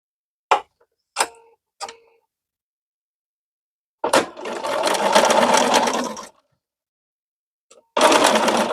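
A sewing machine stitches a fall quilt applique: three quick clicks first, then a steady two-second run of stitching, a pause, and another burst starting near the end, all close and with no talk.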